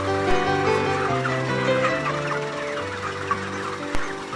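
A flock of broiler chickens clucking and murmuring steadily nearby, continuous low chatter with a few sharper clicks.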